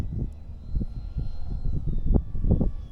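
An RC model airplane engine runs as the plane moves along a runway at a flying field, a steady buzzing drone rising and falling with throttle bursts, fairly close and continuous.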